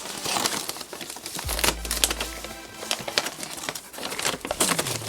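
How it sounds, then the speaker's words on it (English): Parchment paper wrapped around a Cartier Santos Large Blue PVD watch box crinkles and rustles as it is pulled away, in close, irregular bursts with a couple of soft thumps. "What is this, parchment paper?"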